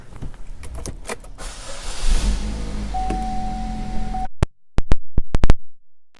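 Power windows on a 2014 Buick Verano whir up and down inside the car, a steady motor hum ending in a stop, followed by several sharp clicks and thumps close by.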